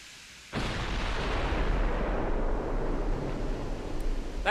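Heavy battleship gunfire in the naval video game Ultimate Admiral Dreadnoughts: a loud, sustained roaring rumble that kicks in after a short quiet lead-in and keeps booming without a break.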